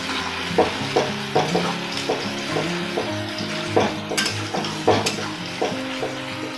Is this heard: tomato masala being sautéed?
yes